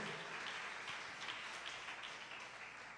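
A church congregation applauds loudly for the Lord during a Christian service, dense continuous clapping from many hands that holds steady for several seconds, with no one speaking over it.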